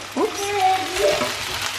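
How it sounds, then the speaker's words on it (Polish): Vegetables fry and sizzle in a pan cooked to a crisp, a close, steady hiss with a brief tonal clink or scrape of stirring over it. "Te warzywa podsmażam, ale na bardzo chrupiąco"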